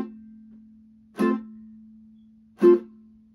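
A ukulele plays two short reggae-style down strums, each quickly cut off by a muted tap, with a low steady hum running underneath; close, clear and with no talk.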